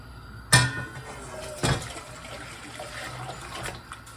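Two sharp metallic clanks of cooking pots being swapped while making bossam, followed by faint watery rustling and light clatter.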